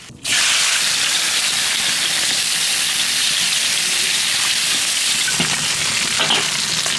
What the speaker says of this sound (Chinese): 锅里少倒点油，把鱼骨头先煎一下